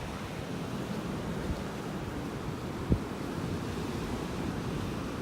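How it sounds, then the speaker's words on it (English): Gentle surf rolling onto the beach beside Naples Pier on a Sunday morning, a steady low wash of small waves with wind buffeting the microphone and one brief thump partway through. "The waves aren't that big."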